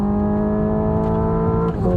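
Simulated petrol engine note from an electric car in N mode, a steady, loud, harmonic drone held for about two seconds with a slight dip and shift in pitch near the end, no talking.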